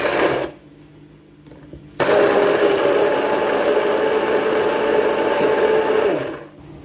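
A mixer grinder jar blending almonds and cashews into a paste whirs loudly and steadily for several seconds after a brief start, then winds down. The motor drone is close, with no talk.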